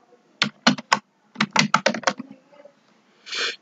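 Keystrokes on a computer keyboard while typing a search into Google, in quick clusters of sharp clicks with short pauses, close and fairly loud, ending in a slightly longer, softer clatter.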